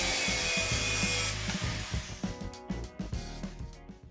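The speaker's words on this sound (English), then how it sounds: "Yeah, Nick, show that angle grinder who's boss." Angle grinder working a forged offset serrated knife in a workshop, a steady loud grinding hiss for the first two seconds that breaks into short uneven bursts and scrapes as the tool lifts on and off the blade.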